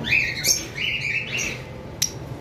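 Caged lovebirds give a string of short, rising chirps, close and fairly clear over a steady background hiss, with one sharp squeak near the end.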